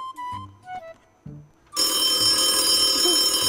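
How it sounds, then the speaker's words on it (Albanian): A telephone rings loudly and continuously after a few short tones and a voice, its steady bright electronic ring filling the second half. "po të bje telefoni"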